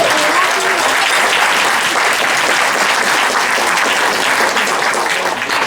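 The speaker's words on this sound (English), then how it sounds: "Let me give a round of applause for them." An audience at a Dan Cox campaign gathering claps loudly for newly naturalized U.S. citizens, a thick, sustained roar of hands that holds evenly throughout.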